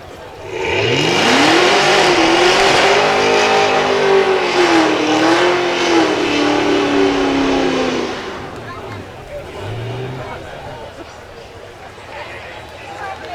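Supercharged 6.2-litre V8 Chevrolet Camaro ZL1 at an outdoor supercar event: a loud engine rev rises, holds a roaring note for several seconds, then drops away, with crowd noise and someone talking over it.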